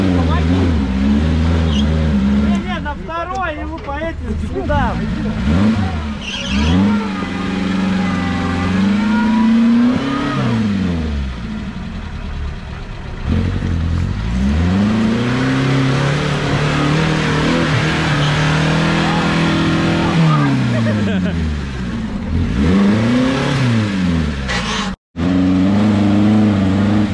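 A UAZ off-road vehicle's engine revs and surges while driving, rising and falling in repeated pitch sweeps, loud and close, with people talking over it.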